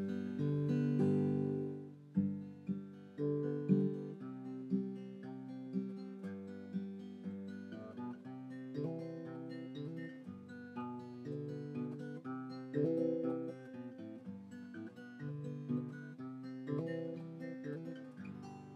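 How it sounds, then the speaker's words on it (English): Fingerstyle acoustic guitar picks out chords with walking bass runs threading between them, played cleanly and fairly softly at a relaxed pace, with no one speaking. "fingerstyle guitar, and today we're going to be looking at bass runs"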